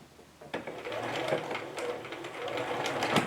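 A sewing machine stitches a fabric neck pillow, running steadily nearby, its rapid mechanical stitching whirring continuously at moderate volume.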